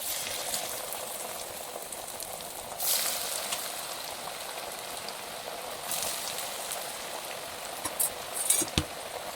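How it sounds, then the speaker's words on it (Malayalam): Parippu vada, lentil fritters made from soaked chana dal, deep-fry in hot oil with a dense, continuous bubbling hiss, close by, with a few brief louder bursts and faint clatters near the end. "ഇനി നമുക്ക് പരിപ്പട ഓരോന്നോരോന്നായി അങ്ങോട്ട് വറുത്തെടുക്കാം."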